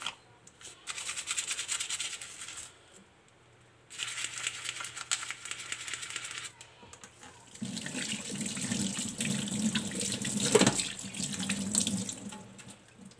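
Tap water runs into a sink while a Nautica diver watch is being washed, flowing in bursts that stop and start, the last stretch heavier and splashier, with no voices.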